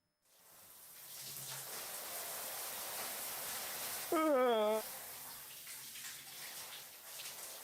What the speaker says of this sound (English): これシャワーの音か。